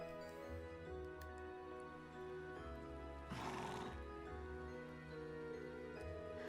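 Horse neighing and whinnying on a mountain path in Trails of Cold Steel 2, with steady clip-clop hoofbeats over a soft musical backdrop and one loud whinny bursting out midway.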